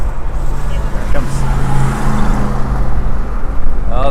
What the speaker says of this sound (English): That car looks a lot faster on camera than it is in real life.